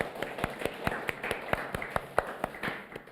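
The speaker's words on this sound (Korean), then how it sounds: "잘 오셨다고 환영한다고 한번 박수 쳐드렸으면 좋겠습니다" A church congregation claps in welcome for a worship team at a Sunday service, with roughly a dozen distinct, evenly spaced handclaps ringing out in a reverberant hall over a low background murmur.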